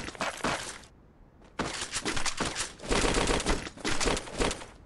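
Dense bursts of rapid gunfire in the video game Free Fire crackle and rattle, pausing briefly before resuming in sustained loud volleys, with a sharp crack at one point, all without speech.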